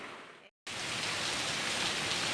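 Heavy, continuous evening rain in Surat pours steadily and loudly, a dense hiss that breaks for a split second and then resumes at full strength, with no voices.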